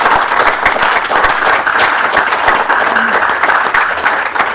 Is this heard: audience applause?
yes